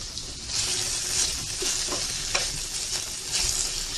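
A chicken patty mixture fries in a pan with melting butter, making a loud, continuous close sizzle with bursts of stirring scrapes and clicks, and no voices.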